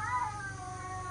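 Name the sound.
cat meowing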